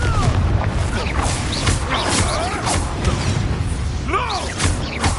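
Confringo spell explosions in the video game Hogwarts Legacy, booming blasts and crashing impacts layered with whooshing effects, loud and dense throughout.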